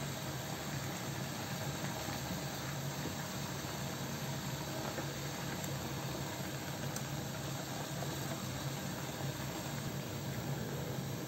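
Chopped onions sizzle in a pan with goat meat, a dense and steady hiss that holds at an even level throughout without any voices.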